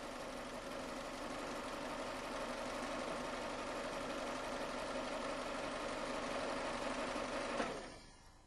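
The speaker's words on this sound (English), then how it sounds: "the engine idling, turn the steering wheel from lock to lock several times" A car engine idles steadily with a smooth, even hum while the steering wheel is turned lock to lock during a power steering fluid check, running unbroken before cutting off abruptly near the end.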